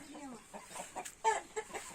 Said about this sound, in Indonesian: Cuma hayam adu merenya.